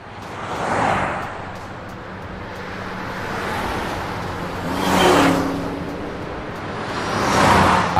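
A BMW driven on two of its four wheels at about 186 km/h on an airport runway in Seinäjoki, heard as a broad roaring engine and wind rush that swells in several passes, with no voices.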